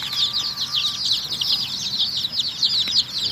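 Young chicks in a winter shelter keep up a dense, continuous high chirping and clucking, with occasional wing flutters, close and steady throughout.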